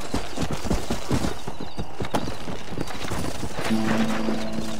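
A horse in the Red Dead Redemption: Undead Nightmare video game, rhythmic galloping hoofbeats up close followed by a drawn-out neigh, with faint game ambience behind.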